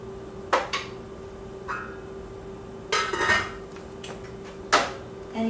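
A utensil scrapes and clinks against a soup pot in a few brief, separate strokes, moderately close, over a quiet kitchen background hum.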